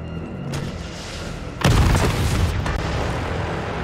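A rocket launcher round exploding in the video game Resident Evil 3 Remake: one loud, deep boom about midway, with a rumbling tail that lingers over the steady game ambience.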